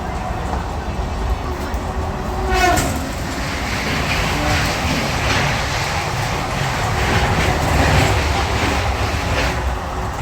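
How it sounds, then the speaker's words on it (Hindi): An EMU or MEMU passenger train running in India, heard as a steady rumble of wheels and carriages with faint rhythmic clatter throughout, loud and continuous, with a voice briefly in the background. "ये EMU या MEMU पैसेंजर है।"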